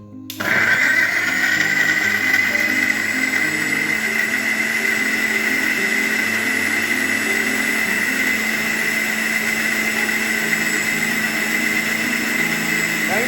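A kitchen blender whirs steadily as it blends muskmelon (shamam) juice with milk. The motor starts abruptly and holds a loud, even drone to the end, with a voice faintly beneath it.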